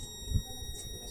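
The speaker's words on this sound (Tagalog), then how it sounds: "Tapos tayo magba-buzzer check. Ayan, buzzer tayo." A multimeter's continuity buzzer sounds a thin, steady electronic tone continuously, faint and high-pitched, over a low background hum.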